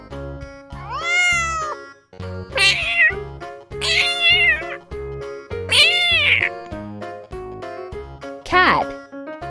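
A domestic cat meows four or five times, each call rising and falling. The meows are loud and close over a steady, rhythmic musical backing.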